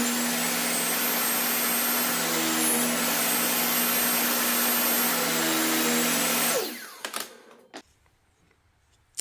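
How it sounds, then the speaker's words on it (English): A table saw cutting a groove in wood for a pigeon basket, giving a loud, steady high whine and cutting roar that runs for several seconds, then winds down into quiet clatter and a few knocks. "I have to keep moving my table saw to open the whole canal"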